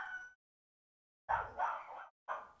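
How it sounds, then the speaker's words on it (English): A dog barks in the distance, faint and muffled, in short bursts separated by silence. "Can you hear the doggy in the background?"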